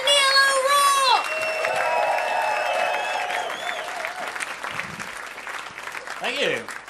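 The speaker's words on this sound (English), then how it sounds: "Start some clapping for me. Clapping, whooping and cheering." A comedy gig audience claps, whoops and cheers in a dense sustained wave, with high whistles and shouts over the applause, fading slightly toward the end as a voice speaks.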